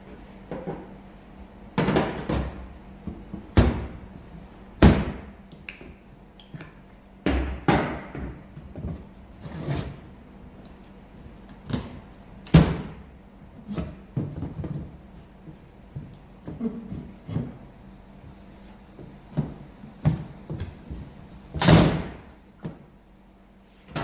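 Cardboard shipping box of a Sunex transmission jack being opened, damaged at one corner: a series of sharp thumps, knocks and cardboard scrapes at irregular intervals, close by, with no talk.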